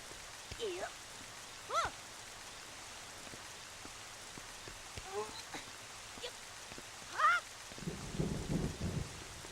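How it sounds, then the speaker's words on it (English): Steady rain patters throughout in The Legend of Zelda: The Wind Waker, a soft, even hiss over a faint low rumble of thunder, with brief chirpy voice sounds and a short burst of game chatter near the end. "Little rain once in a while isn't bad at all."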